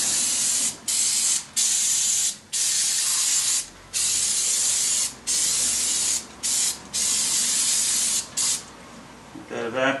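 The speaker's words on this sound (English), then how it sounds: "Give everything a real quick spray down." Brake parts on a GM drum and front pad job are sprayed down with cleaner in repeated loud, close bursts of hiss, each a second or so long with short breaks between.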